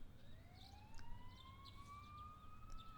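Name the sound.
distant sirens in video game Persona 4 Golden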